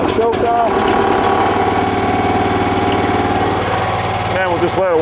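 A TimberOX Summit log splitter's small gas engine starts and settles into a loud, steady running drone with constant vibration, close by, under a person talking.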